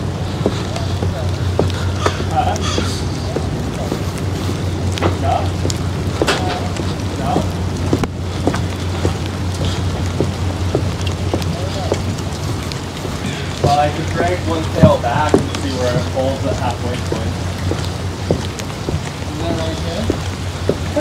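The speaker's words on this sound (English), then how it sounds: "It is beginning to rain." Rain starting to fall on a fishing boat while halibut gear is being set, a steady patter over a low engine hum, with people talking intermittently throughout.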